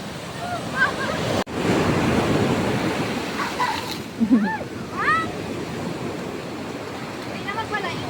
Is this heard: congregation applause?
no